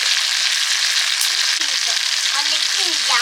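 Hot mustard oil sizzles in a pan while chana dal is being made, a steady hissing crackle close by that keeps up throughout, with faint stirring and clinks underneath.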